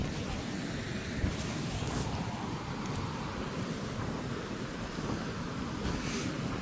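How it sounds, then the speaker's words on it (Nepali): Sea surf breaks continuously along the Gerringong coast, a broad steady wash of waves with wind buffeting the microphone throughout, no clear individual crashes standing out. "यस्तो पानीले फुटाउने नि रहेछ यार"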